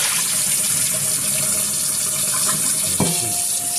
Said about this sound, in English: Rinses out the rest of the buttermilk